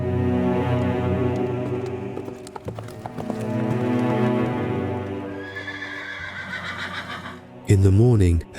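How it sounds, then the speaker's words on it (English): A horse whinnies loudly over the clatter of its hooves, the neigh rising sharply near the end, close and prominent. "In the morning, Achilles mounted his horse and rode to the walls of Troy."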